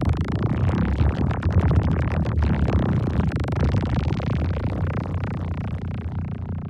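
Ableton Vocoder in pitch tracking mode, limited and gained up, produces a liquid, synthy, gurgling wash, continuous and fairly loud with bubbly fluttering textures, no voices.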